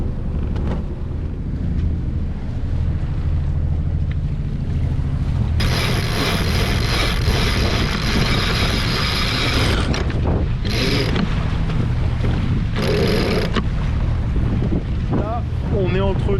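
A small sailboat pitches in wind and confused waves coming from several directions, with a constant wash of water and heavy gusts roaring against the microphone that swell loudly midway.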